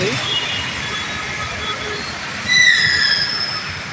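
Metro train at Jubilee Checkpost station, with a steady rumbling roll and a high wheel squeal rising near the end, heard at moderate distance under a brief voice.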